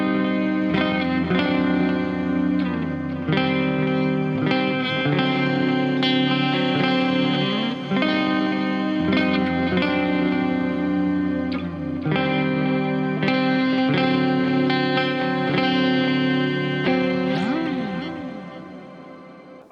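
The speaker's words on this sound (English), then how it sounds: "We have that shimmer reverb here." An electric guitar played through a shimmer reverb on a Quad Cortex rings out in sustained, layered chords with bright, octave-shifted washes trailing behind each strum, continuous and loud for the whole stretch, with no talking.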